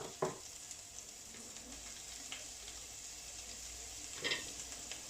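A wooden spoon mixes coriander, flat-leaf parsley and harissa seasoning, giving a few soft scrapes and taps against a quiet background hiss.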